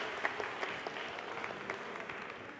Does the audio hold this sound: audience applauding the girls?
yes